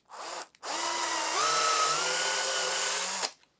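A power drill whines steadily for about three seconds after a short burst, its pitch dipping slightly under load as it bores into a book block.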